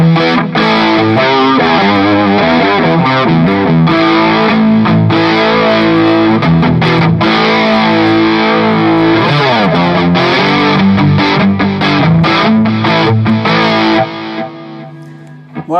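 A heavily distorted electric guitar plays through a Mesa Triaxis preamp and Mesa 2:90 power amp, with chugging palm-muted riffs and sustained chords, loud and up close, before cutting off near the end.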